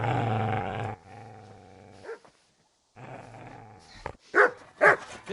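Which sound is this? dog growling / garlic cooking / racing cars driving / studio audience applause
dog growling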